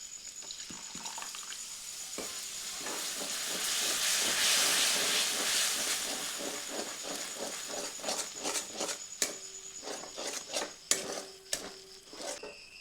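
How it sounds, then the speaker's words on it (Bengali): A splash of water hits a hot pan of frying cashews and poppy seeds, bursting into loud, swelling steam hiss that fades into crackling sizzle and scattered clicks of stirring. "তো এখানে নিচে যাতে না লেগে যায়, তোর জন্য সামান্য জল দিয়ে দিচ্ছি।"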